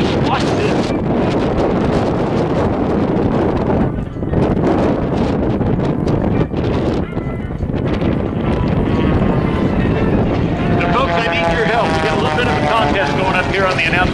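A propeller aircraft flies an avalanche manoeuvre at a Texas air show, its engine droning loud and continuous for the whole stretch under heavy wind buffeting, with the pitch climbing and wavering near the end.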